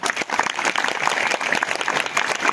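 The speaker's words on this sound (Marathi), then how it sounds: "पक्क्या टाळ्या वाजवायचं ना" A crowd at a kirtan gathering claps hard and fast, a brisk, close burst of dense applause with sharp individual claps standing out throughout.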